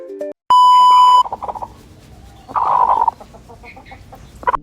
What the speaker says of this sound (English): It's called a trill, a soft, rhythmic sound they make when they feel totally safe